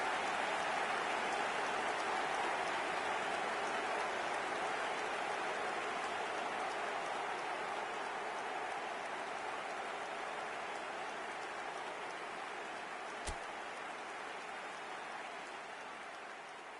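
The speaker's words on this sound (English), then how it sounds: "The rain is tumbling down here. You can see it against the floodlights." Heavy rain falling at night over a floodlit football stadium, a dense, even hiss of pouring rain that stays steady throughout and eases slightly toward the end, with one brief sharp crack partway through.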